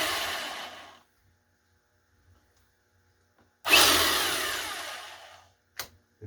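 Glority rotary hammer drill runs in two loud, harsh bursts of about a second each, separated by silence, followed by a short clicking clunk as the mode selector springs back to hammer and drill.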